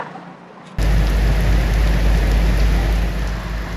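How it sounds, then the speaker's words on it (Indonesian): Heavy rain pouring down over Yogyakarta, a dense, steady roar that starts abruptly after a short quiet moment and holds loud and unbroken, with no voices over it. "hujan deras terus mengguyur wilayah Yogyakarta sejak pagi hingga sore hari"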